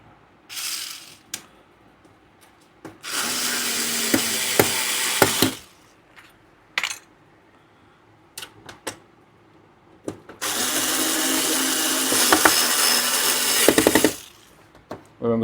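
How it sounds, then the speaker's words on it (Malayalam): Screws are driven into a Sony Bravia TV during repair of a no-picture fault, with two long, close bursts of a whirring power driver separated by clicks, handling clatter and brief taps. "1-2 സ്ക്രൂ ഒക്കെ ഇടാം നമുക്ക്."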